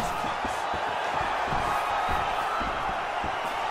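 A dense arena crowd in the video game UFC 4 roars and murmurs continuously during a fight, with scattered thumps of strikes and swelling cheers in the noisy background.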